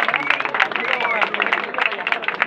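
A crowd at a freestyle rap battle qualifier in Tenerife claps and cheers, with dense, steady applause filling the moment and background voices mixed in.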